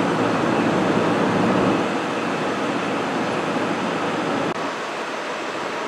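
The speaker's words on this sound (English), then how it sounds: "got two trains coming in there" Trains roll into London St Pancras International, a broad steady rumble and rushing noise filling the station hall, easing slightly partway through with a brief clunk near the end.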